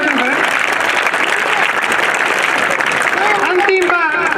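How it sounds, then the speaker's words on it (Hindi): Enthusiastic audience applause rings out at the closing ceremony of a community sports competition, a loud continuous patter of many hands clapping together, with scattered voices and a brief cheer near the end. "उसके लिए ताली बजाकर उनका अभिवादन करें"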